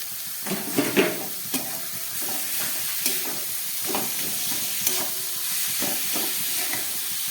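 Boiled, drained and mashed banana blossom tossed into a pan with ghee and turmeric paste, frying with a steady sizzle while a spoon stirs and scrapes in several distinct strokes, no voices over it.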